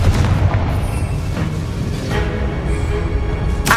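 The Confringo fire-blast spell in Hogwarts Legacy, heavy booming blasts with rumbling low impacts repeating over a few seconds amid combat noise.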